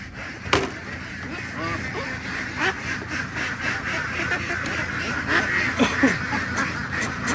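A flock of laying ducks quacks continuously nearby, overlapping calls in irregular bursts, with a sharp knock early on.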